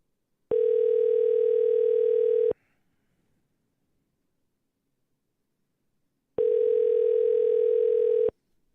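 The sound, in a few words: telephone ringing tone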